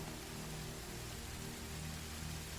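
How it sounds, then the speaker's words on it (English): Rain falling in the video game Horizon Zero Dawn, a steady, even hiss that stays constant and fairly quiet throughout, with no talking over it. "oh great, rain."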